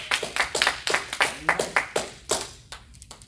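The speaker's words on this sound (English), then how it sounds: "let's give God a hand clap of praise" A church congregation claps in praise, a run of sharp, rhythmic hand claps in near-steady beats that thin out and fade toward the end.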